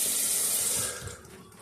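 Water runs from a bathroom tap into a sink for rinsing after a shave, a steady hiss that weakens and thins out near the end as the flow changes.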